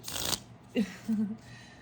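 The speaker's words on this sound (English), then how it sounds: "I love these little cards. They're so cute and fun to shuffle." Fairy oracle cards being shuffled by hand, a quick crisp riffle burst at the start, then a few soft card taps and light handling sounds, close and fairly loud.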